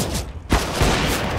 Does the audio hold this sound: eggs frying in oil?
no